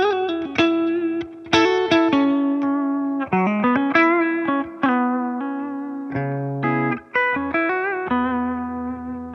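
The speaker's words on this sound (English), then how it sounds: "dry overdrive with a little bit of reverb coming from the amp as well" An electric guitar played through a Fender Tone Master Pro amp modeller with dry overdrive and a touch of amp reverb, picking a melodic line of sustained, gritty notes and short phrases, alone with no talking.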